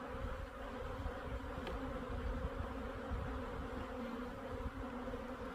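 Dense, steady swarm of honeybees humming up close while a beehive is split by the shake-down method, continuous and fairly loud with no voices.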